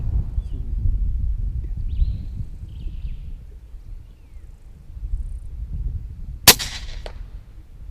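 Quiet outdoor wind and faint birds, then a single sharp crack of a .22 caliber air rifle fired from 80 meters, followed by a short thud of the pellet's impact.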